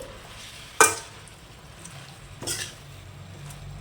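Cabbage curry being stirred in a pan with a spoon: a sharp metallic scrape or clank near the start, then a softer second scrape, over a low background hiss.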